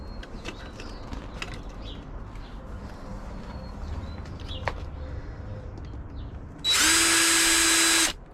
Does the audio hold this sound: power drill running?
yes